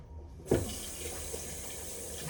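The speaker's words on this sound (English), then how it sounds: "Let's rinse this off." A kitchen or bathroom tap is turned on and runs steadily into a sink for rinsing, starting with a splash and then a constant close, moderate stream of water.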